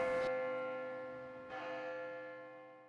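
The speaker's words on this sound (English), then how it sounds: "there's a special bell ringing" A church bell from the Grace Cathedral carillon tolls, its long resonant tone fading slowly before a second strike renews the hum, heard at a distance and fairly soft, without any voices.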